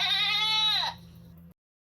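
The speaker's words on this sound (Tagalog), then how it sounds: "Parinig niya ng boses ng kambing ko." A cartoon goat gives a single loud, nasal bleat lasting about a second, wavering and then dropping in pitch before cutting off, over a low steady hum.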